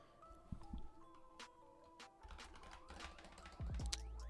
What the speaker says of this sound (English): For some reason, I was typing my name.